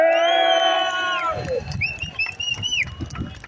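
At the farmers protest in Zuiderpark, Den Haag, sustained horn-like tones give way to a crowd cheering and clapping in a loud, uneven roar, with whistles and a few shouted voices rising above.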